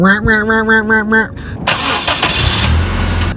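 A Honda CR-Z hybrid's engine cranks and catches, settling into a steady running hum, preceded by a short burst of harmonic tones.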